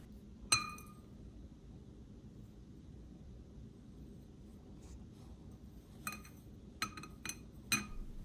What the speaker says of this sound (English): I also found this glass container